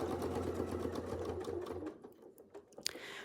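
A sewing machine stitches along a fabric edge with a fast, steady mechanical whirring that runs nearly two seconds, then slows into a few scattered clicks and handling noises.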